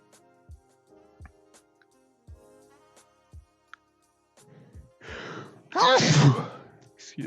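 A single sharp sneeze bursts out close to the microphone near the end, following a stretch of quiet soft clicks and taps in an indoor room.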